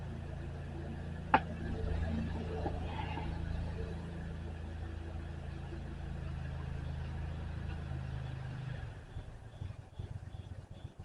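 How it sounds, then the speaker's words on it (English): A gasoline lawn mower engine drones steadily at a moderate distance, a low, even hum that runs for most of the stretch and then cuts out near the end, leaving quieter background. "Let's let this gasoline mower get farther away to not make so much noise."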